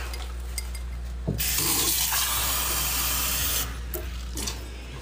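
Water from a tap pours into a pot for soup, a loud steady hissing rush for about two seconds, framed by quieter handling sounds and a low background hum.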